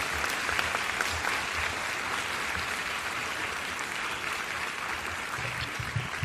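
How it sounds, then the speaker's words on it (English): Sustained, dense applause from a large crowd at a music performance, steady and loud throughout without a break. "It was a long applause."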